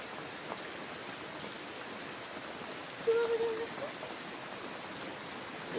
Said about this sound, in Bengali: এই যে বৃষ্টি, এত বৃষ্টি পরিমাণে